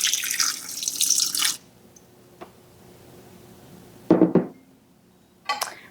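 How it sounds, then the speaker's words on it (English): Half a cup of warm water splashes into a bowl of meringue powder for royal icing in a brief, close pour, followed by quiet pauses and a few light clinks. "We're going to pour the half cup of warm water in."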